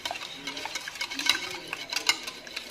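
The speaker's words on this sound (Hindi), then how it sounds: "अब इसको मिक्स कर लेते हैं।" Egg, powdered sugar and milk mixture for French toast being stirred in a bowl, giving a steady run of light clinking and scraping taps close by, with no talk.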